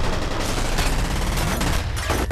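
Rapid, dense gunfire from the F.E.A.R. video game, a sustained burst of overlapping shots that stays loud and close for the whole stretch, with no voices over it.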